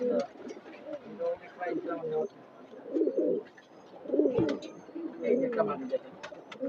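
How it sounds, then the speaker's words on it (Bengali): Several pigeons coo in low, throaty pulses nearby, the calls repeating in clusters while someone speaks intermittently over them. "সুন্দর কবুতর এটা অনেক দাম দিয়ে কালেক্ট"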